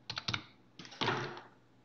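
Quick keystrokes on a computer keyboard, with a burst of about four taps followed by a denser cluster of clicks, faint and close in a quiet room.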